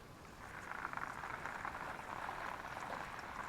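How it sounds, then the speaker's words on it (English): A submersible pump with almost no pressure pushes a large volume of water, giving a steady, moderately faint gushing and bubbling wash that holds even throughout with no breaks. "that pump has almost no pressure at all, just moves volumes of water"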